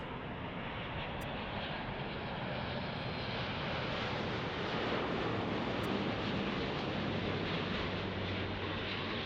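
A Delta Airlines jet roars steadily at Los Angeles International Airport, a loud, continuous broadband engine rush with no talk, holding near and even for the whole stretch.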